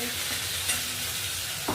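Steady sizzling of a sandwich spice mix with ginger-garlic paste frying in a hot pan, with a few soft stirring scrapes and a light clink near the end.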